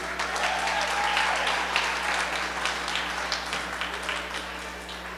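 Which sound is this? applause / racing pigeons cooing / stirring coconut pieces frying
applause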